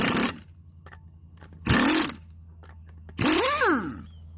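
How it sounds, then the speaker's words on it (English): An impact wrench zips in three short bursts against a stubborn, tight bolt while a speed sensor is swapped on a 1998 vehicle. The bursts are loud and separated by quieter gaps with a low hum underneath. "you got an impact wrench."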